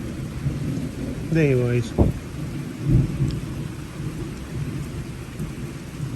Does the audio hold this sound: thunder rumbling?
yes